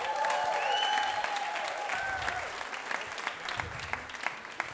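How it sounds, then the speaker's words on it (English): Audience applause at a live storytelling show in a bar, a dense wash of clapping that stays loud, then thins toward the end with a few sharp individual claps, while a voice or two calls out briefly over it. "round of applause for Dirk in the back of the bar, guys."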